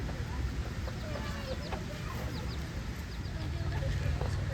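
Chickens cluck and squawk in a busy market, several birds calling over a dense, noisy background with people talking nearby.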